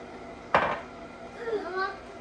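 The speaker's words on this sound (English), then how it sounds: "you might have to go a little faster to mix that butter around" A utensil stirs butter into a vegan apple pie bread batter in a bowl, giving one sharp clink against the bowl followed by faint scraping, and a voice speaks briefly near the end.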